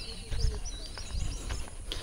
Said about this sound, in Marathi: एवढा पक्ष्यांचा किलबिलाट.